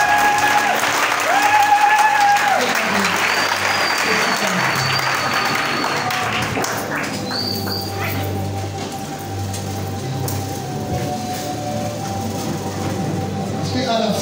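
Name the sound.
congregation applauding to acclaim the Lord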